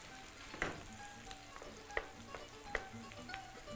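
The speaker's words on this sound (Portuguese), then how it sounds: "abrindo espaço para eu colocar mais repolho para fritar aqui" Cabbage frying in a pan, heard as a soft, faint, continuous sizzle with a few light clicks and taps as pieces are set in place.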